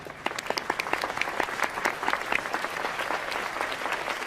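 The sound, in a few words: audience applauding a TV show host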